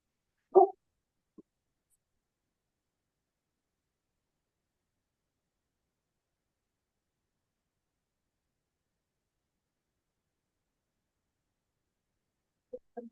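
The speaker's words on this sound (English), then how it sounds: "control my dog barking at someone at the door." A dog barks at someone at the door indoors: one short, sharp bark at the start, a small yip soon after, then long silence before two more brief barks at the very end.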